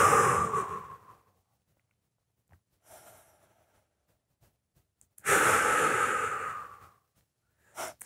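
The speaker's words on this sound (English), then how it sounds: "I'm just going to inhale on the way down" Heavy, audible breaths during a lying leg-lowering exercise, a long forceful exhale, a quiet faint breath in between, then another strong drawn-out breath, close to the microphone with silence between them.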